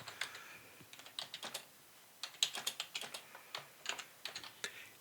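Fingers type on a computer keyboard in quick, irregular bursts of light clicks, close and fairly quiet, with brief pauses between runs of keystrokes.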